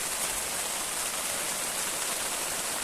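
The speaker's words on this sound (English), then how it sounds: "Oh, it's like a monsoon" Heavy rain pours down at a campsite, a dense, steady hiss of water drumming on surfaces close by, unbroken and without voices.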